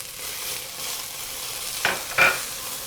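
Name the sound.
garlic sizzling in olive oil in pot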